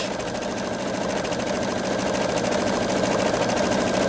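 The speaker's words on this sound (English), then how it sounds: "all I have to do is start sewing. It'll immediately do a taper at the beginning of that stitch" A Pfaff Creative 3.0 sewing machine runs a steady, continuous stitch while starting a tapered seam, its motor humming evenly and fairly loud throughout with no pauses.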